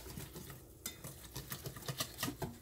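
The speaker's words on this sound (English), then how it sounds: "Go ahead and stir this up real good" Thick chicken wing batter stirred in a bowl with a utensil, close and fairly quiet, with a steady run of soft scraping, tapping and wet sloshing strokes.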